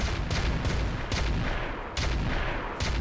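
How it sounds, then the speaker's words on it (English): Air burst mortars fire in Roguetech, a rapid series of sharp booming blasts, roughly five or six shots in quick succession, loud and close. "80 air burst mortars."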